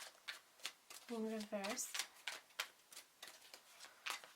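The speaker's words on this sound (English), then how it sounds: "These cards are very stiff, sometimes it's quite tricky to shuffle them" A deck of stiff tarot cards is shuffled close up, with crisp, uneven riffles and taps in an irregular rhythm while someone speaks briefly.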